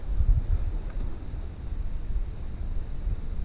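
Wind blows steadily outdoors on the water while fishing from a boat, a low continuous rumble and microphone buffeting with no voices.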